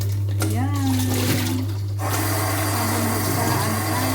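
Miswa noodles are rinsed under a running tap, a steady rushing splash of water that fills the whole stretch, with a voice talking over the first part.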